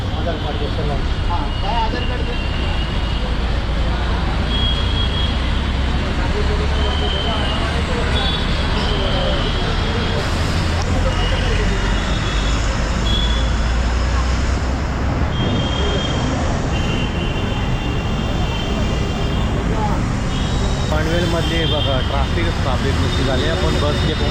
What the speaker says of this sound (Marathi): गाडी डेपोमधून बाहेर पडलेली आपल्या पनवेलमधून पावणे आठ वाजता